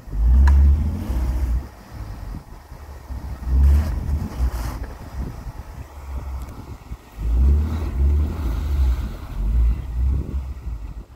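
Engine of a stuck Jeep Wrangler on winter tires revving hard in repeated loud bursts, each surge lasting a second or two, with quieter idling and wind noise between them.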